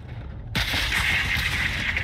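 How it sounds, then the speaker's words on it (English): Flares fired from a helicopter in Call of Duty: Modern Warfare 2, a sudden loud burst that launches into a sustained hissing, roaring rush of sound. "Whoops, I shot flares and I didn't mean to."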